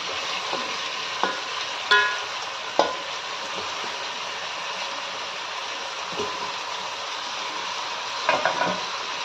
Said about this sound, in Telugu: సో మటన్ని బాగా కలపాలి